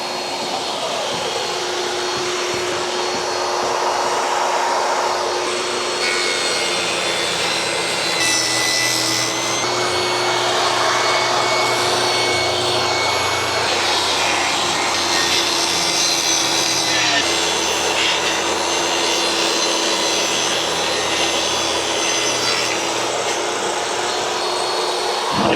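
A power saw makes a long, steady cut across a wide board, about 14 inches, running loud and continuous with a sustained tonal whine throughout.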